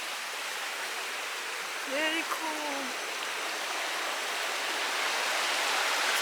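River water near a waterfall in Luang Prabang, Laos, rushes in a steady broadband hiss, with a brief spoken comment about two seconds in.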